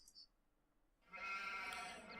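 A sheep in the farming video game Farming Simulator 17 lets out a loud, drawn-out bleat after a brief quiet start, close and clear with nothing else over it.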